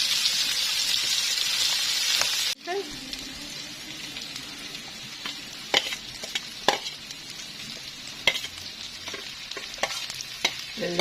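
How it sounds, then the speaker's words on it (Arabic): Peppers and onions sautéing with meat in a pan, a steady sizzle with scattered crackles and pops after a louder opening burst, close and continuous with no talking. "بس الفلفل ياخد تشويحه مع اللحمه"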